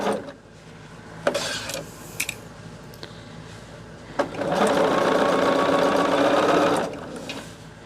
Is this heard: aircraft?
no